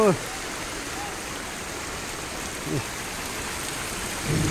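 Rain falls steadily during a mountain trek, a dense soft hiss that holds evenly throughout, with a few brief voice fragments near the start, middle and end.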